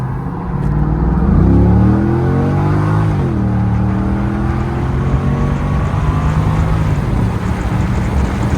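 A 2008 Chevrolet Corvette convertible with the LS3 V8 pulls hard from a roll, its engine note climbing through rising harmonics, dipping at a gear shift around three seconds and building again, loud and steady throughout with no talking.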